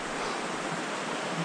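Rushing high water of a raging creek roars in a steady, dense wash, loud and close, with no pauses and no voices.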